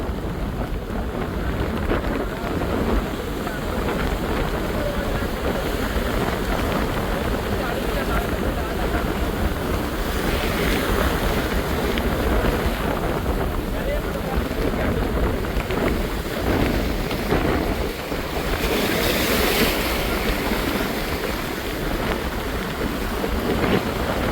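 Constant broadband roar of surf and wind at a beach during a storm in Jaffna, waves breaking continuously with gusty noise across the microphone.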